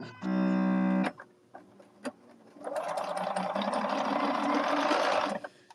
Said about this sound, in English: I hear a sewing machine.